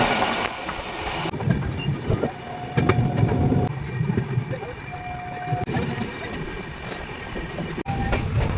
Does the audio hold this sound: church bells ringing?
no